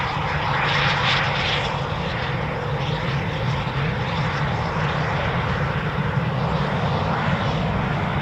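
Eurofighter Typhoon jet taxiing at RAF Coningsby, a loud, steady engine roar and whine holding throughout, close by with no talk.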